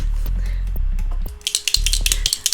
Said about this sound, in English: That's the sound of me shaking my anxiety meds.